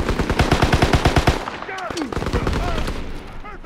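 Automatic gunfire in Call of Duty WW2, a loud rapid burst of about ten evenly spaced shots followed by a fading tail and brief chirpy game sounds, close and prominent.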